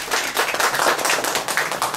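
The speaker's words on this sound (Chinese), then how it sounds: "那以下呢，我们就用最热烈的掌声来欢迎我们的钟瑞腾钟经理" Warm applause from a seminar audience welcoming a presenter, dense continuous clapping from many hands, close and loud throughout.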